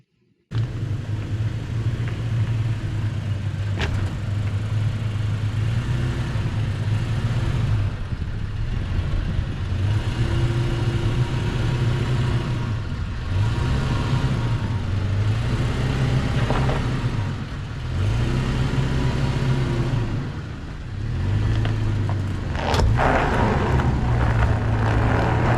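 An off-road vehicle strains up a hill in two-wheel drive, its engine rumbling steadily with repeated surges and dips in revs as it fights for traction, close and loud throughout.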